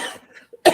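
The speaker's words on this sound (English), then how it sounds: "It's starting to make me want to cough." A single short, sharp cough bursts out after a moment of near silence, close and fairly loud, preceded by soft breathy throat sounds.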